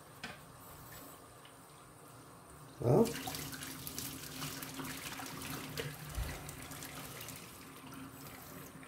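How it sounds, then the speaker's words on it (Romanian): Hot water from boiled Barilla pasta poured through a kitchen strainer, a sudden rushing splash that starts loud then settles into a steady running trickle over a sink, with a brief spoken word. "Strecur apa fierbinte."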